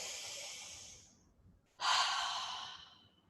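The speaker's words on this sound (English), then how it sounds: "Take a deep breath with me." A slow, deep breath, with a long airy inhale fading out, a short pause, then a strong exhale that tapers away, close and otherwise quiet.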